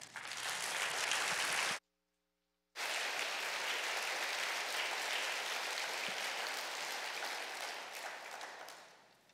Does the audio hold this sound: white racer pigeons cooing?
no